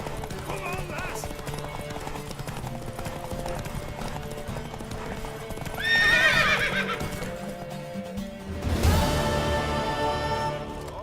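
Horse hooves clip-clopping with a whinny in The Witcher 3 video game, set over steady music, growing louder near the middle and ending on a loud close neigh.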